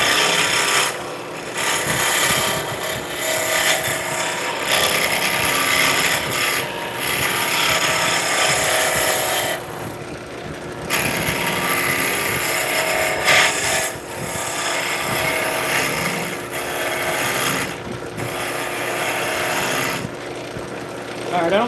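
A wooden spindle turns on a lathe as a tool cuts it, giving a steady close rasping and scraping with short breaks where the cut stops. It runs through most of the clip, with talk now and then.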